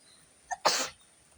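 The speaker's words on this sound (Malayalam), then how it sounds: "മഴയല്ലേ, തുമ്മലൊക്കെ." A single close sneeze cuts through a quiet indoor room on a rainy evening. A short breathy intake comes first, then a sharp, loud burst that fades quickly into silence.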